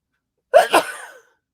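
A single sharp human sneeze bursts out close and loud, then trails off quickly into silence.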